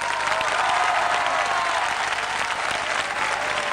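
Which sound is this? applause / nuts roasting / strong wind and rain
applause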